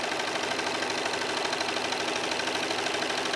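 A serger sewing machine stitches fabric around square corners, running steadily and loudly close up with a fast, even mechanical hum and rapid needle chatter throughout, with no voices.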